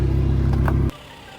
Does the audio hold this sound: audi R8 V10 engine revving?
yes